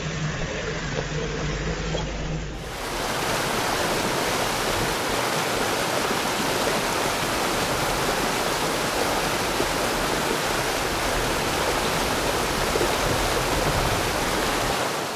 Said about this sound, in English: this was the first waterfall, beautiful, beautiful waterfall